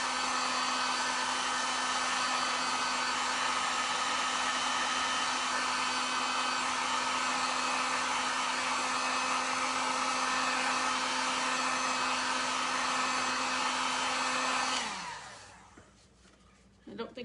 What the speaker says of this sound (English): And what did I do with my blow dryer?